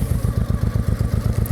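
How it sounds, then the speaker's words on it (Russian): A warmed-up motorcycle engine idles on a cool early-season day, a loud close steady rhythmic thumping pulse with clattering overtones, no voices. "двигатель прогрелся"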